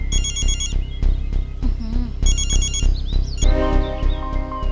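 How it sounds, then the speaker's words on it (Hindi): Telephone ringing repeatedly in a Hindi drama scene, a loud electronic ringtone in steady bursts with brief gaps, then a melodic tone near the end, close and dominant. "मुझे किरण का फोन आया था।"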